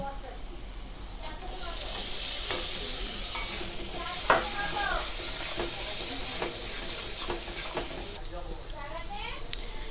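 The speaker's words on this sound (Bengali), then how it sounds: "এর মধ্যে এবারে দিয়ে দিচ্ছি আমি টমাটম কুচি।" Chopped tomatoes hit a hot pan of spiced masala for an egg curry and are stirred, a steady sizzle and fry hiss running throughout with scraping spatula strokes and a sharp clatter near the middle; a voice talks faintly underneath.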